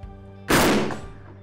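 A single loud, close rifle shot fired at a wild boar target during a driven hunt, with a sharp blast that decays over about half a second.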